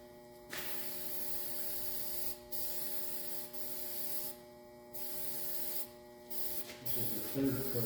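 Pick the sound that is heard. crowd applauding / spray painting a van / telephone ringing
spray painting a van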